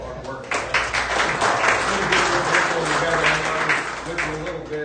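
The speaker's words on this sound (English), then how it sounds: "I think a round of applause for Bob." Audience applause at a clean energy event in Pennsylvania, a dense wash of clapping that swells and holds, with some crowd voices mixed in.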